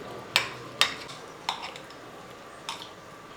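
A spoon mixes chili chutney with sour curd in a bowl, giving four sharp, separate clinks against the bowl over a quiet background.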